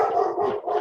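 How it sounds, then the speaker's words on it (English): A dog at home gives a drawn-out, howling bark in two close bursts, moderately loud and alone with no talk. "I apologize for my dog."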